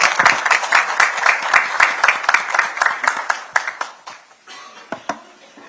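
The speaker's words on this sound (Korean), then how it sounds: "우리 최고위원들께서 박수 한번 보내주시기 바랍니다." Party supreme council members clap at an outdoor Democratic Party rally in Sunchang, Jeonbuk: brisk, loosely rhythmic applause from a group, close and lively, thinning out and fading after about four seconds.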